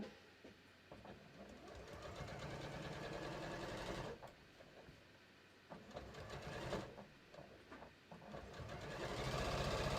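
Home sewing machine running a seam on a pair of shorts at a 3.0 stitch length, a steady rapid mechanical chatter heard close up in two long runs with a short pause between them, fairly quiet overall.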